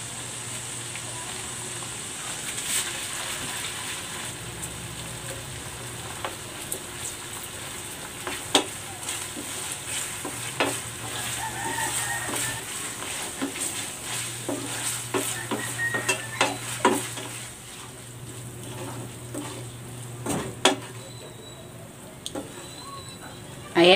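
Ground beef sizzles in a hot pan with tomato paste for Filipino-style shawarma, under repeated close scrapes and clinks of a spatula stirring against the pan, with a brief louder clatter near the end.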